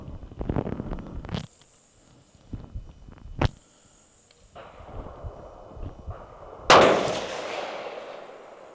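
A single loud, sharp rifle shot from a Ruger American rifle being sighted in, decaying away near the end, preceded by quiet handling clicks and rustles.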